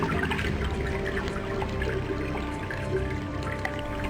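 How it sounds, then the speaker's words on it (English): A vessel filled with water from a tap or pitcher, heard as a steady, close gushing and bubbling pour that runs throughout without any talking. "Let's fill up our vessel with water."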